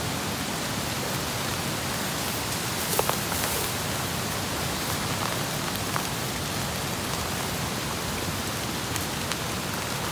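Steady outdoor rain falls during a rainy-day fishing outing with hooks set for fish and frogs, a dense even hiss with a few scattered drop taps, constant and moderately loud throughout with no voices.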